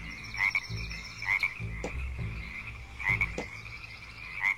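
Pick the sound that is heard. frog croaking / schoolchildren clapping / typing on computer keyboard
frog croaking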